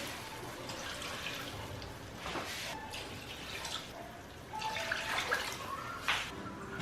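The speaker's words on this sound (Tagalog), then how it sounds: "Lagyan natin ng tubig." Tap water poured into a cooking pot for spicy misua noodle soup in a home kitchen, a steady splashing trickle with brief drips, fairly faint and alone with no talk.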